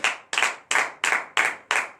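A church congregation at a morning prayer service claps in acclamation, six loud, sharp bursts of hands in a steady rhythm, close and clear with no talking.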